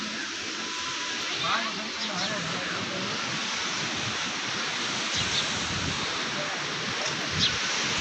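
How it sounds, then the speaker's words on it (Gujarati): Cold, howling wind on the Arabian Sea coast at Diu, a constant, loud roar of gusts buffeting the microphone with surf-like rushing underneath, unbroken throughout. "ઠંડો સુસવાટા મારતો પવન"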